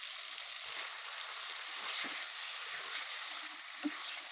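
Spice paste sizzling in hot oil in a pan while being cooked down for a rui fish curry with pointed gourd, a soft continuous crackling hiss with occasional louder pops.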